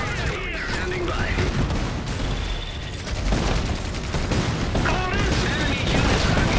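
Dense, continuous battle noise from the Iron Harvest strategy game, rapid gunfire and booming explosions packed together, with game unit voices calling out over the din throughout.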